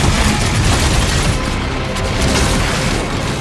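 A video game trailer roars with dense, continuous gunfire and heavy explosion booms, loud and unbroken throughout, with no voices on top.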